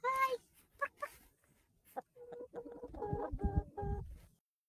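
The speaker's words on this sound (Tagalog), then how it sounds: "There they are. Say hi, chickens." Backyard homestead chickens, roosters and hens together, cluck and squawk up close in short bursts, with people talking over them.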